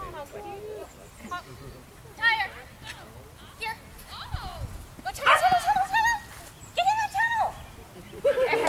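An agility dog gives several short yips and whimpering whines at close range, interspersed with quiet pauses and faint background talk.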